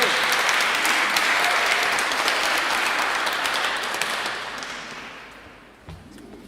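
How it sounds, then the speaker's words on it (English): Steady audience clapping at a spoken word and waffle evening, loud and even at first, then thinning out and fading to a few last claps before quiet. "Everybody, give me a round of applause."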